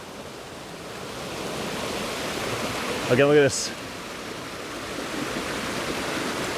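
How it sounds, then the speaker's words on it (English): A waterfall pours over rocks, a steady broadband rushing roar that fills the whole stretch, with someone talking briefly over it midway. "We'll back this out here and show you what feeds this beautiful waterfall."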